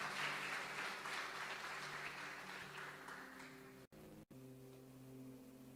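Church congregation applauding during a sermon, a faint wash of clapping that fades over several seconds above a steady low electrical hum.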